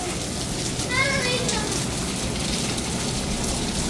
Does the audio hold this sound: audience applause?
no